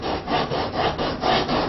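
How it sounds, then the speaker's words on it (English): Wood being sanded by hand with 80 grit sandpaper held at a 45-degree angle, a steady series of close, loud rasping back-and-forth strokes roughly every quarter second, with no talking. "I'm being careful to keep the sanding at a 45-degree angle"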